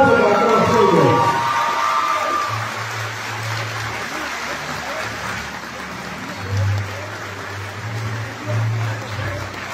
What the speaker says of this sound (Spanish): ¡Hace fuerte el aplauso para todos ellos!